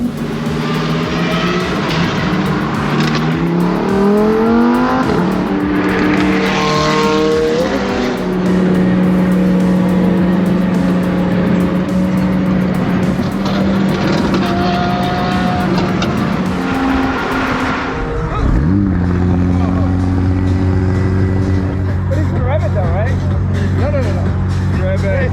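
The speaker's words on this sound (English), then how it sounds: "This is what McLaren sound like when you rev them." A McLaren supercar, a 765LT or modified Novitec 720S, revving loudly at a car meet, its engine note climbing and falling in repeated sharp sweeps close by, with crowd chatter around it.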